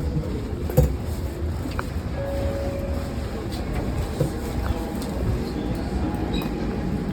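Interior of a Kyoto City Railway local train while riding: a continuous low rumble of wheels and carriage with faint rattles and occasional soft clicks, with quiet voices nearby.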